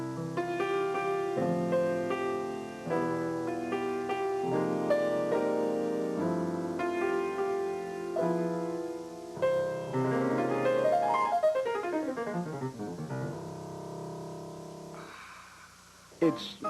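Music plays from a compact Bose Acoustic Wave music system: a continuous melodic instrumental passage with sustained notes, one sweeping rising run midway, and a brief pause near the end.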